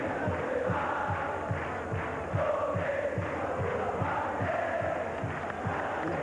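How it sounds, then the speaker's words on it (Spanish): Stadium crowd roaring and celebrating a football victory at a 1993 Copa Libertadores match between Universidad Católica and Sao Paulo, a dense sustained wall of cheering with rhythmic chanting pulses throughout. "La gente ha festejado la victoria."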